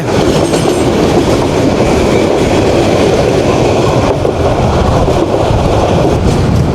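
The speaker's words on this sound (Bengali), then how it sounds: "সোনার বাংলা এক্সপ্রেস চট্টগ্রাম থেকে ঢাকার উদ্দেশ্যে ছুটে চলেছে" Loud, continuous rumble of the Sonar Bangla Express running fast on the rails from Chittagong toward Dhaka, with rhythmic clattering and wind buffeting throughout and no voices.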